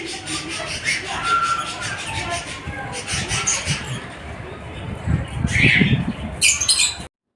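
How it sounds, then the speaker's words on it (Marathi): A cockatiel parrot at a nature park gives repeated squawks and chatter, fairly close, with a rustling background and busier, louder calls toward the end. "कॉकटेल हा जगातील दुसरा सर्वाधिक पाळला जाणारा पोपट"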